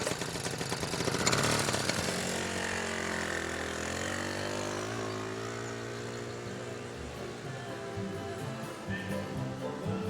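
Moped engine running steadily, a buzzing mid-pitched drone with a slight rise in revs early on, then settling into an even idle, fairly faint.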